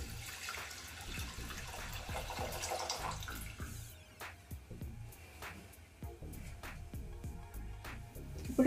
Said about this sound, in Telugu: ఇప్పుడు వేరే ఒక గిన్నె పెట్టేసుకొని స్టవ్ వెలిగించుకొని ఇందులో 1 లీటర్ పాలు వరకు వేసుకోవాలి